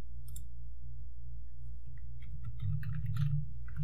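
Faint, crisp mouse clicks come while working in software on a computer: one isolated click, then a quick cluster of several more, over a low steady background hum.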